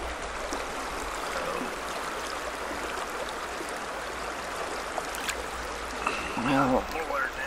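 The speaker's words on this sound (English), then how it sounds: "right here, there's like a little fast stream area or section that's not as fast as it was" A small fast-flowing mountain stream rushes and burbles steadily along a backpacking trail, a continuous close watery wash with a brief louder splash or clatter near the end.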